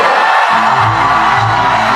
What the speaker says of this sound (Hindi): एक बार जोरदार ताली बजा दीजिए खान सर के लिए